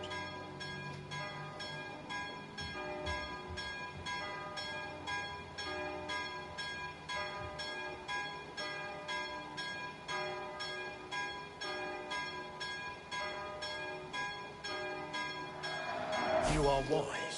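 Repeated bell strikes ring out in the video game Assassin's Creed Valhalla, a steady metallic tolling pattern over background game ambience, with a louder burst near the end.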